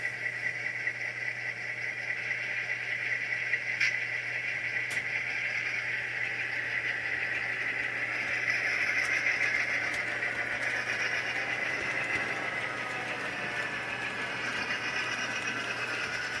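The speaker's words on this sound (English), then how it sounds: "It just idled down a little bit and then throttled back up again." A model railroad locomotive runs on a layout, a faint steady mechanical hum and whir that eases down slightly and then rises back up, heard alone without talk.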